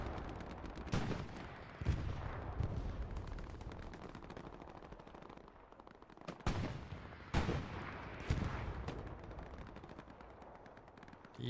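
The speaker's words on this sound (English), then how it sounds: "hip firing an MG42 is not the easiest thing to do" An MG42 machine gun firing from the hip in the Hell Let Loose battlefield, heard as several short ragged bursts and booming shots amid continuous rumbling combat noise, moderately distant.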